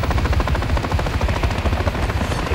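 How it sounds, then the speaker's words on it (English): A helicopter flies close by in Call of Duty Modern Warfare III, its rotor beating in a loud, fast, steady throb over a dense low rumble. "Another helo's close."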